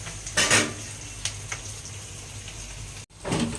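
A steady sizzling hiss of vegetables frying in a pan, with a few soft clatters of a utensil against metal.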